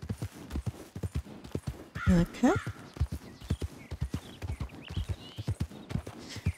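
Hooves of an Appaloosa horse in Red Dead Redemption 2 clip-clop in a steady walking rhythm, close and crisp, with a brief whinny midway, under a man's ongoing speech.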